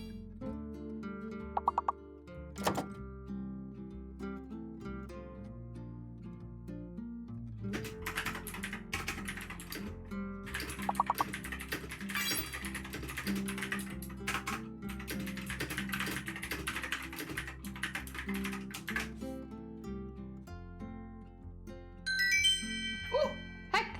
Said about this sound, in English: I get really quiet when I'm typing